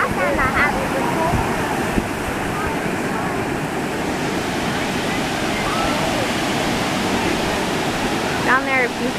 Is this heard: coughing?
no